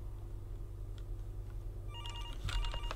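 A telephone rings from about two seconds in, a few rapid trilling bursts sounding over a steady low electrical hum inside a warehouse, with no talking.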